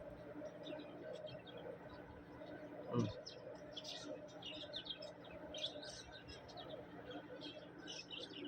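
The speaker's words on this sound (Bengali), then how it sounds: "সুন্দর সুন্দর কবুতর দেখতে পাচ্ছেন, ভালোবাসার প্রিয় কবুতর, বিভিন্ন জাতের" Lesser pigeons in a home loft give soft chirps and scattered calls with one brief low coo, faint and somewhat distant against a quiet background.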